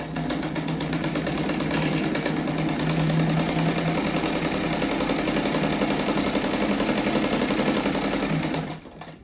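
A sewing machine runs steadily, stitching a simple rug with a crocheted edge. Its fast mechanical whir is close, loud and continuous for about nine seconds, then cuts off abruptly at the end.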